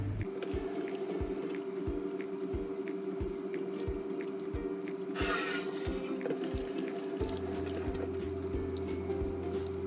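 Rice for Thai mango sticky rice is washed by hand in water, with steady sloshing and swishing in a bowl and a rhythmic series of soft knocks under a constant hum.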